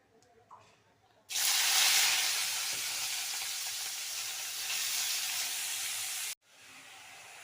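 Chopped banana stem with turmeric and salt hitting a pan, an abrupt loud hissing sizzle that holds for about five seconds and then cuts off, leaving a faint quieter fry.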